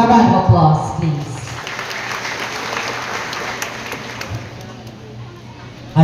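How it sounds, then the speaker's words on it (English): School audience applause at a morning program, broad crowd clapping that follows a brief voice at the start and fades somewhat toward the end over a low hum. "A round of applause, please."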